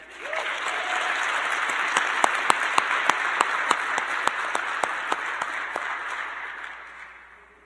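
A room of guests applauds a graduating biomedical engineering class at a university senior celebration, the clapping swelling quickly, staying steady and bright with a few sharp nearby claps standing out, then fading away at the end.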